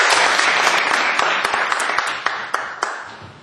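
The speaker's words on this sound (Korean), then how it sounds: "박수로 모시겠습니다." A room full of people applauds to welcome a pastor introduced as a guest lecturer, steady dense clapping with a few sharper individual claps standing out as it tapers off.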